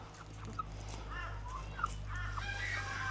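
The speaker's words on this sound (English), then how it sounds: "Wyandotte rooster on its way." Gold-laced Wyandotte chickens clucking and murmuring softly in scattered short calls over a steady low background hum. The birds sound fairly faint, and no one talks.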